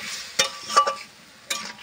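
Fish curry is stirred in a pan, with a few brief scraping and clinking strokes of a spoon over a faint low simmer, close and isolated.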